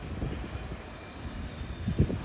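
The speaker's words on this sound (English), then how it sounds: "just imagine yourself getting to the spot where a train's supposed to be and just see this rolling away" A train rolls along the rails close by, a steady rumble broken by rhythmic clacks of wheels over joints and a thin high squeal running through, heard alone without voices.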